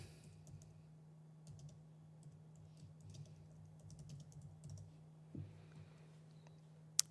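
Fast, light key taps on a computer keyboard, entering a product search for a Rigid 20-inch light bar, run in a soft steady stream under a low hum, ending with one sharper click.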